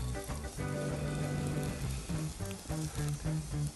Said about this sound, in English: I'm frying this egg in the bottom of a stainless steel pot